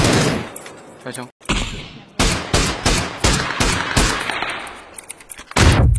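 Rapid bursts of automatic gunfire in a tactical shooting video game, arriving as sharp repeated cracks in quick clusters with brief gaps between them, loud and close.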